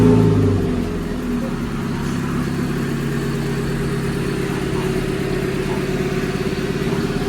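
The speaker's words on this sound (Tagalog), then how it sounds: "Ngayon, mas umingay yung tunog niya kasi yung kinabit natin is yung dating nakakabit sa kanya na drag pipe" A motorcycle fitted with a drag pipe exhaust runs close and loud, a brief rev settling into a steady rumbling idle with a rough, throbbing pulse for several seconds.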